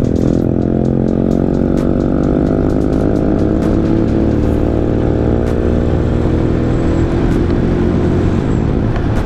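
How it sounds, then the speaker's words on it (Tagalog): A motorcycle engine riding just ahead drones loudly and steadily on a quick ride from Baguio City to Tarlac, its rising and falling pitch close and continuous throughout. "Ang ingay nitong motor sa harap ko eh"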